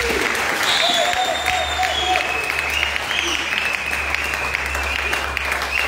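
A church congregation at an anniversary Mass bursts into sustained, dense applause that fills the room for several seconds, with voices and cheers mixed in throughout.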